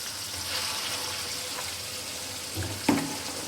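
Onions frying in a pan for a chicken dish make a steady close sizzle and hiss, with a brief scrape or clatter near the end and no talking.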